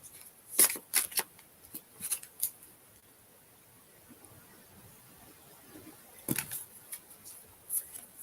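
Oracle energy cards are shuffled by hand in quiet, close-up bursts of soft riffling and flicking, with a cluster near the start and another a few seconds later, separated by near silence.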